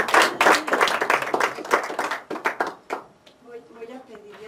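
An audience at a book presentation bursts into dense applause that fades out over a few seconds, leaving a quiet room with a voice beginning to speak at the end.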